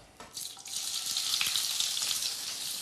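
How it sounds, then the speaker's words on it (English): Prawns hitting hot infused oil set off a loud, steady sizzle that swells within the first half-second and then holds as a dense, hissing crackle throughout, with no talking over it. "we've got the oil infusing now, and what I'm going to do is we're going to get the prawns on to cook"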